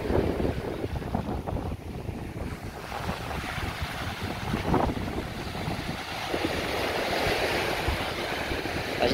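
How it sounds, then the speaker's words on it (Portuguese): Sea waves washing in at Balneário Camboriú beach near the Epic Tower, a steady rushing surf with wind buffeting the microphone, swelling slightly toward the end. "ouvindo a água do mar"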